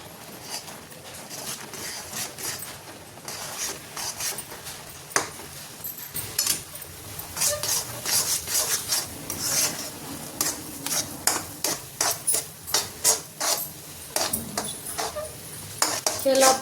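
Spoon stirring a flour mixture for jhunka in a pot over medium flame, scraping and clinking against the metal in an uneven series of taps that grows busier toward the end, close and fairly soft.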